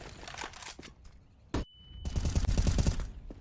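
Rapid gunfire in a Counter-Strike: Global Offensive pro match on the Inferno map, dense bursts of automatic shots, a short gap, then a loud sustained burst, heard close.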